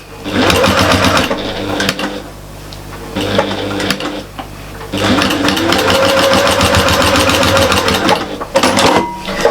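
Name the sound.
sewing machine stitching the edges of a fabric storage caddy lid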